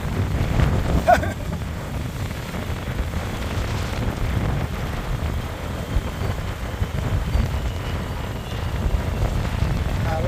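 A strong northeast amihan wind blows across an outrigger boat at sea, giving a constant loud rushing roar and rumble against the microphone, with a few harder gusts.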